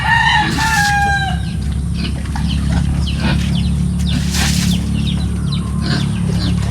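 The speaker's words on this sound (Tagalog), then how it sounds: "May mga alaga na rin silang mga manok." Chickens on a backyard farm cluck, and a rooster crows once near the start, all over a steady low mechanical hum; later clucks come in short, scattered bursts at moderate distance.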